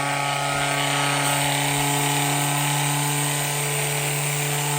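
Ryobi power sander mounted on a G scale flat car, cleaning the track: a loud, constant buzzing drone with a strong low hum, running unbroken and close throughout.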